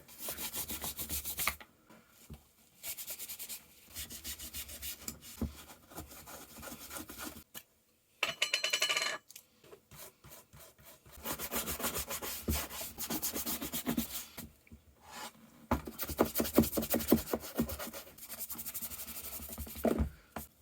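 A worn leather boot is scrubbed with a brush in bursts of brisk, rasping strokes, broken by short pauses, close up with no talking.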